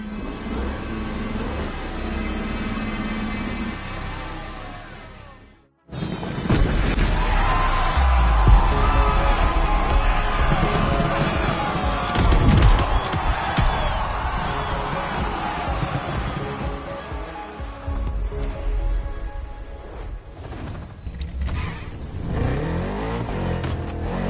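A Lamborghini Terzo Millennio in the video game The Crew Motorfest on PS4, its engine roaring loudly and continuously with revving surges, dropping out briefly before building again and then fading toward the end.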